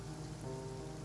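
Steady rain falling in a fantasy adventure game, a soft continuous patter on surfaces beneath a low sustained musical drone, with no one talking.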